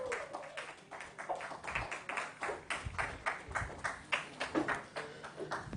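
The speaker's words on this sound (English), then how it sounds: "Round of applause." An audience on a small live stage applauds a performer's welcome, a steady patter of claps with some sharper taps and a few whoops, moderately loud and fairly close throughout.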